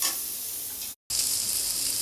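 Sliced onions sizzle and fry in a pan for a pulao, a loud continuous hiss close up with a brief cut of silence midway.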